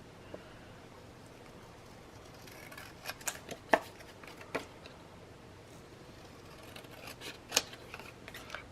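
Scissors snipping paper for a craft project, a scattering of faint, sharp cuts and clicks at an irregular pace over a quiet room background, with no talking.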